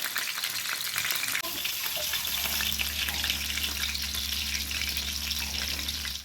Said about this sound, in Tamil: சிம்மிலேயே வச்சு தான் வேக விடணும், இல்லைன்னா கருகிடும். மீன் நல்லா ஃப்ரை ஆகட்டும்.